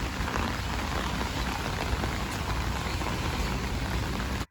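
Rain pouring during a storm at Yishun Dam, a dense, steady hiss of drops striking surfaces that stays loud and even throughout with no voices.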